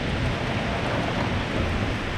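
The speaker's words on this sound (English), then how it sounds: "Of course, it's nothing but rain today." Steady rain falls outdoors at a speed shop during a truck repair, a dense, even hiss that holds without a break for the whole stretch, with no voices.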